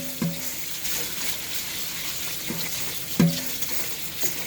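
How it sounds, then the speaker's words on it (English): Rice being washed in water in a home kitchen: quiet, irregular swishing and splashing, with a few sharper clinks against the pot, and no voices. "I really wash it to get some of the extra starch out."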